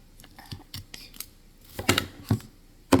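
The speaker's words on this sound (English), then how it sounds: "Now just take the scissors" Scissors snipping through soft squishy foam while making an Oreo-style squishy craft, a handful of short crisp cuts and small handling clicks, close and fairly quiet.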